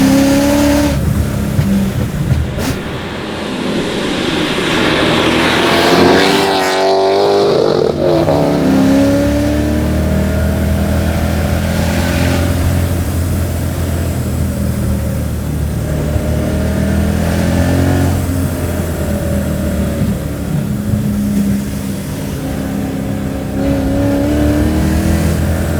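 Supercharged V8-swapped BMW E30 engine roaring loud and close, revving hard through rising pulls and a gear shift, continuous throughout with no talk.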